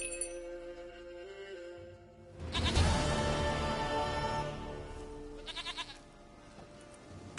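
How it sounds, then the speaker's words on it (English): A goat in The Witcher video game bleats loudly several times in a row, wavering cries layered over quiet game ambience with faint clinking. "Goat of mine, dearest, sweetest goat."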